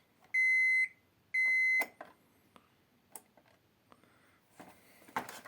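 Two bursts of rapid, high electronic beeping from an alarm clock, followed by scattered clicks and light handling noises nearby.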